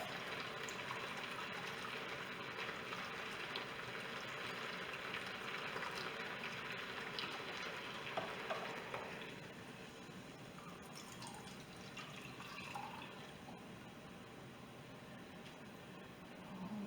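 Beef broth pours into a pressure cooker in a continuous splashing, trickling stream that fills the first half, then quiets to a softer liquid murmur; faint and without talk.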